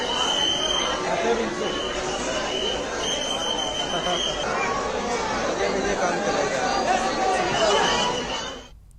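Dense, steady babble of a large crowd of devotees at the Lalbaugcha Raja Ganesh pandal in Mumbai during Ganesh Chaturthi, many voices blending into a continuous hubbub that fades out at the very end.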